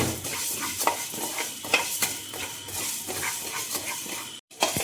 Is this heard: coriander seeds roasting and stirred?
yes